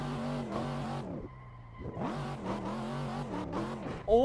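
Loud car engine revving hard in harmonic sweeps while drifting in Assetto Corsa, a Corvette in fourth gear, with a brief drop in revs near the middle and a sharp tire or wall scrape at the very end.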